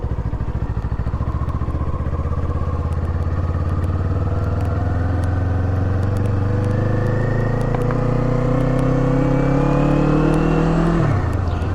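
A 2024 Kawasaki Eliminator 450 cruiser motorcycle riding on the road, its engine droning steadily as the pitch climbs gradually under acceleration, then dropping sharply near the end on a gear change or throttle-off, with wind noise, loud and close.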